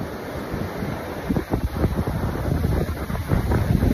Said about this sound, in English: it's very windy and it's high tide